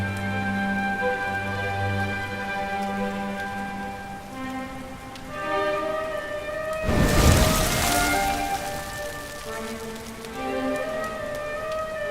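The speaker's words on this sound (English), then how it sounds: "Looks like the rain's dying down." Steady rain falls in a video game under a melodic music bed, with a louder burst of rushing noise partway through.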